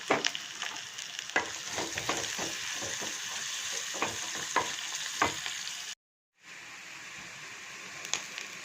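Onions sautéing in a pan with asafoetida for onion chutney, a steady close sizzle with frequent scraping stirs throughout and a brief dropout partway before the frying resumes.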